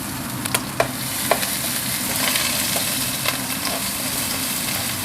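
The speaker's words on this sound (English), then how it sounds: "The pans get hot now. So I'm gonna add all garlic chili." Steady sizzling of garlic and chili frying in a hot pan, with occasional soft clinks and scrapes of stirring, continuous and close.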